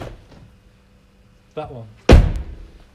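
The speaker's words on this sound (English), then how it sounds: "If I open the rear passenger door" Car doors open and shut, two distinct thuds, the second a heavy slam, while someone speaks briefly between them.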